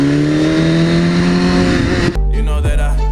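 A car chasing a Porsche 911 Turbo S accelerates hard. The loud, close engine climbs steadily in pitch, then drops sharply at a gear change and surges again.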